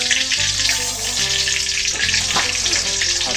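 Cow head skin frying in hot oil, a loud, close, continuous sizzle with bubbling crackle and a few clinks of utensils.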